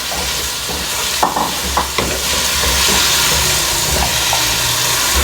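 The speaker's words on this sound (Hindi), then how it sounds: "आलू डाल रही हूँ।" Finely chopped potatoes hit a frying onion-tomato masala for matar chawal, producing a loud continuous sizzle with a few sharp spatula knocks and scrapes as they are stirred in, and no voices.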